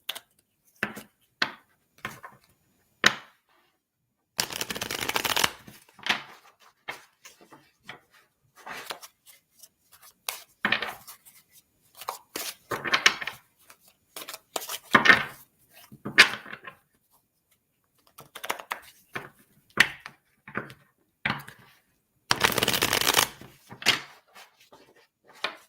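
Tarot cards shuffled by hand, a series of brisk papery riffles and taps, close and crisp, in scattered short bursts with two longer shuffling runs and quiet gaps between.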